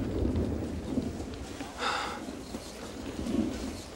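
Steady rain falling outdoors, a continuous close hiss with a brief louder swell midway.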